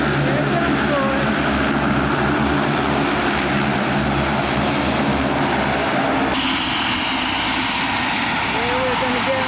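A propeller airplane taxis in at a small airport in Kenya, its loud droning engine and whirring prop dominating, close by and steady, with voices of people waiting mixed underneath.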